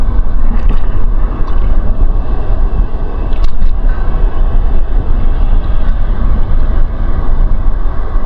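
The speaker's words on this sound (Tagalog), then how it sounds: "Kasi malakas yung alon." Strong sea waves pound a rocky shoreline in eastern Samar, Philippines, a continuous loud wash and roar with gusts of wind buffeting the microphone throughout, no voices.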